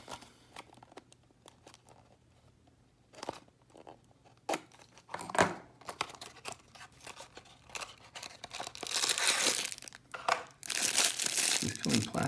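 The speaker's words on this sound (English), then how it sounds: "He's peeling plastic." Plastic packaging is peeled and crinkled off a Matchbox BMW 2002 toy car, with soft rustles building into loud, close crackling and tearing bursts toward the end.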